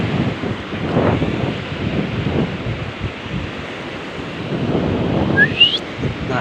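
A single sharp, rising human whistle sounds near the end, loud and brief over steady outdoor wind buffeting the microphone.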